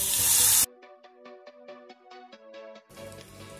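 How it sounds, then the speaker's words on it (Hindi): Gram flour batter hits a hot pan with a spoonful of oil and bursts into a loud, bright hiss that cuts off abruptly. A short melodic tune follows, then the sizzle returns. "अब इसके अंदर हम हमारा ये घोल डाल देंगे"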